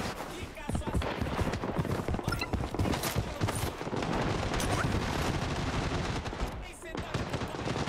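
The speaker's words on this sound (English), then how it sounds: "I'm hearing gunfire everywhere" Dense, continuous gunfire from the Blood Strike video game, rapid automatic bursts and shots overlapping one another across the whole stretch, loud and busy with barely a pause.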